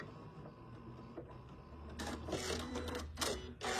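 A sewing machine stitching and then its built-in thread cutter snipping the thread, a quiet mechanical whir that turns into a louder burst of clattering, rhythmic machine noise near the end.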